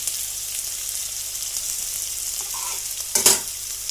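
Beetroot drops into hot oil already holding green chili and carom seeds and fries in a pan, a steady close sizzle with a brief louder crackle as the vegetables hit the oil.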